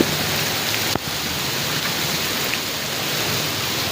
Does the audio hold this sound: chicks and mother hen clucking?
no